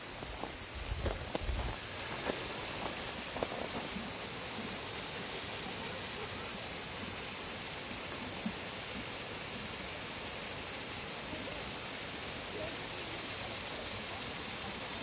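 Wentworth Falls waterfall in New South Wales gives a steady, broad roar of falling water that fills the whole stretch, with a few brief handling bumps near the start and no talk over it.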